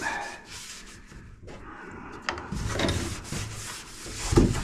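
Scuff pad rubbed over the hood jam of a 1970 Buick Wildcat before POR-15 coating, a series of close, scratchy back-and-forth scrubbing strokes growing louder toward the end.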